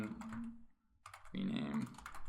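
Computer keyboard keys pressed in quick succession to enter an Excel worksheet-rename shortcut, with clicky taps in two bursts separated by a brief pause, close and fairly loud.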